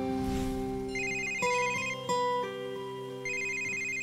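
An electronic phone ringtone plays a steady, bright melodic pattern of repeating tones for about four seconds, fairly loud and alone with no voices.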